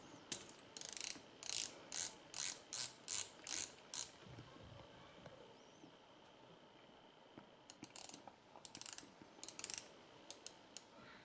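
A Carte Blanche Ocean Diver dive watch bezel turns in quick, close ratcheting clicks, one burst of rapid clicks, a pause, then a second burst.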